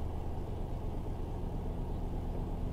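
A Ford Fiesta MK8 ST engine idles after a cold start with a slight, steady low rumble that holds constant and close throughout.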